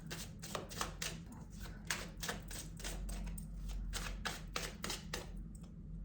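Quick papery riffling of tarot cards being shuffled up close, soft repeated flicks in short bursts with a brief pause near the end.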